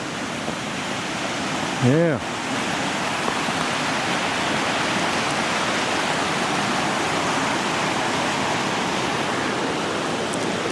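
A constant rushing of river water fills the scene, loud and steady, with a brief voice cutting in early on.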